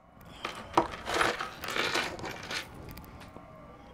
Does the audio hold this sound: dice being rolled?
yes